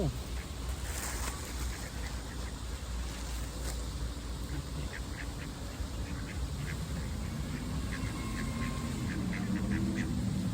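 Ducks quack repeatedly as they are fed bread at a pond, a lively cluster of calls over a constant wash of water and ambient noise, with a voice mixed in.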